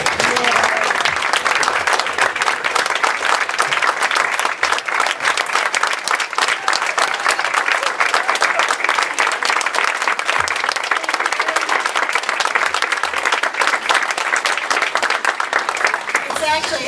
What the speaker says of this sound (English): let's give a big standing ovation as they introduce our wonderful Congresswoman, Congresswoman Carol Shea-Porter.